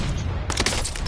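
Rapid bursts of hand cannon gunshots in Call of Duty Warzone, some distance off, crack out in a dense cluster over steady game background noise.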